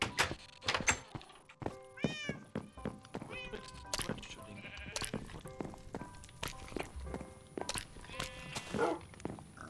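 Cats in the Minecraft video game meow repeatedly in short rising calls, scattered through a busy stretch of thumps and footsteps, with voices talking in the background.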